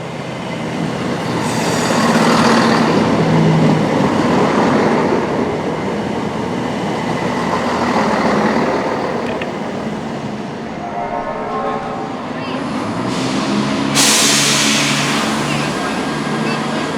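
Cross-country passenger train on the way to Leicester on the East Midlands Railway network, a steady broadband rumble of the carriage interior in motion with faint brief voices in the background.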